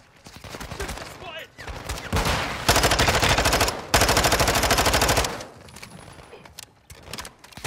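Rapid automatic gunfire from a shooter video game, with dense bursts and sustained volleys of shots coming close and loud, broken by short pauses.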